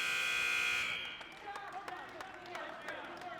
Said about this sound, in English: Just the whistle and the buzzer.